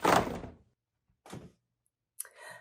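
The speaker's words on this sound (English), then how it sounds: "When you pull the drawer all the way out quickly, the cubes leap out of the box." A handmade gift box drawer is yanked out quickly and pop-up cubes leap from it. A sliding rush is followed by a softer scrape, then a short papery clatter as the cubes spring free, close and alone.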